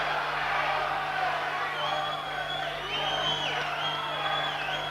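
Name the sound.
boxing crowd cheering for Watson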